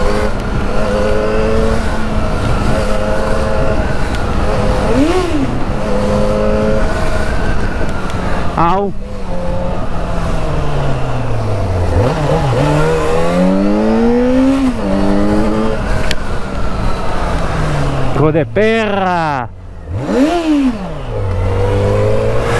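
A Yamaha XJ6 motorcycle engine with its original exhaust revs hard over and over, the pitch sweeping up and down with sharp throttle blips; a voice exclaims briefly over the roar.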